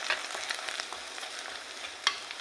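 Onions, shallots and garlic frying in a pan for a tuna curry, a soft, airy sizzle with small crackles and one sharper pop near the end, close but quiet and heard on its own.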